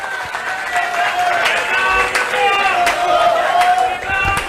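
A large crowd claps steadily through the whole stretch at an outdoor public rally in a market in the summer heat, with a voice speaking over the applause.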